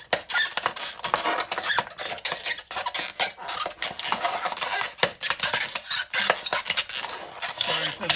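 A poor-quality knife screeches and scrapes continuously while cutting a hole in a homemade crawfish trap, harsh and close, rasping in uneven strokes without talking.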